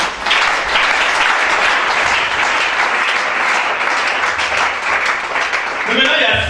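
An audience at a church service applauds in a steady, dense wash of clapping that holds loud and close for several seconds before a voice breaks in at the end.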